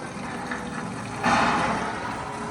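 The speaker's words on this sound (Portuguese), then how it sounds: "Aê, Luquinha, botou água pra valer." Water gushes and splashes at an interactive attraction in Universal Studios Orlando, a steady rushing spray that surges louder partway through, with no voices.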